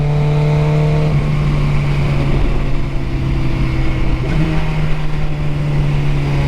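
A Honda Goldwing motorcycle engine runs loud and close, holding a steady droning tone that dips briefly and then rises again in a short rev before settling back to an even hum.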